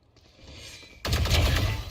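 Video game gunfire from Black Myth Wukong opens faintly, then a loud burst of rapid shots hits at about one second and keeps rattling close and dense to the end.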